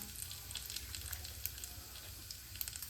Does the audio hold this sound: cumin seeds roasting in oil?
yes